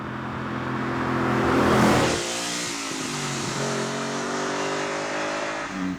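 Lamborghini Urraco V8 engine mounted just behind the driver's head, revving up loudly, then settling back to a steady, throaty drone heard from inside the cabin.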